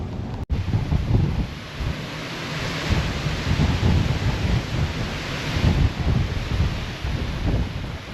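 On a very blustery day at an outdoor park, strong wind buffets the microphone in a loud, continuous rumbling roar with surging gusts and a sharp knock near the start, with no voices.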